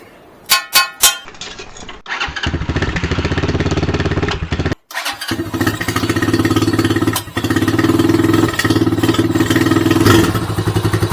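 An RPS Condor 250cc motorcycle with a modified stock exhaust starts after a few clattering bursts, then idles and revs loudly up close with a steady buzzing drone and rising throttle blips.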